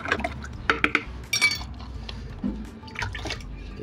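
Water sloshes into a container of fertilizer being mixed for grape vines, with light clinks of the vessel and a splashy burst midway, close and unaccompanied by speech.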